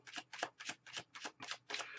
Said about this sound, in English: Let's get you finished with the shuffle and the cut, all right?